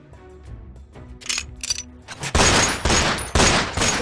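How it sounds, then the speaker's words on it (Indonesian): Film gunfire: after a quieter opening with faint clicks and tones, loud rapid bursts of shots crash in and repeat in several volleys to the end. "melakukan intimidasi kepada Cenu dengan tembakan senjatanya di hadapan Pak Dokter"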